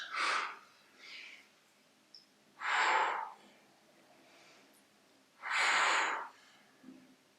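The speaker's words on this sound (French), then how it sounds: "Inspire, expire." Three strong breaths during a core exercise, each a loud breathy whoosh of air, with smaller softer breaths between them, close and without speech.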